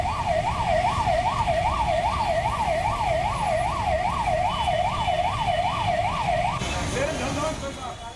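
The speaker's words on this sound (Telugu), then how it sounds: "హారన్ సైరన్లతో రోడ్లు మారుమోగుతున్నాయి" A wailing emergency siren sweeps steadily up and down, loud and close, amid stalled traffic on a jammed road in Hyderabad, with a rumbling engine bed beneath and the siren cutting off near the end.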